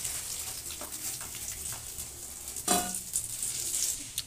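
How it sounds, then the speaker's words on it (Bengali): Prawns frying in hot oil in a home kitchen, a steady bright sizzle throughout with a sharper crackling burst partway through and occasional utensil stirring sounds. "চিংড়ি মাছ আমাদের ভাজা হয়ে গেছে"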